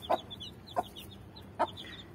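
Chicks, including one with feathered legs, peep close by, three short distinct calls spaced evenly apart, with fainter high chirping from others in between.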